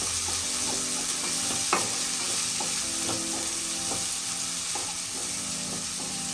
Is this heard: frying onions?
yes